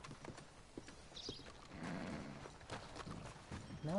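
In the Red Dead Redemption 2 video game, a horse's hooves clip-clop in a quick rhythm with a brief neigh, faint and somewhat distant against other game sounds.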